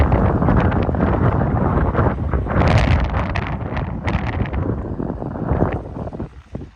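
Strong dry wind buffeting outdoors, a loud continuous rumbling gust across the microphone that eases slightly toward the end, with no voices.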